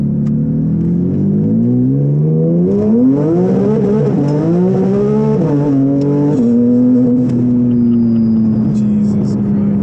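Turbocharged Porsche GT3 RS accelerating hard, its engine note climbing through several gear changes in rising, stepped whines, then settling into a steady high drone, loud and close from inside the car.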